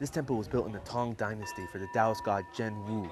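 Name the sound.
temple bell being struck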